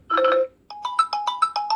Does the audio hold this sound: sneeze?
no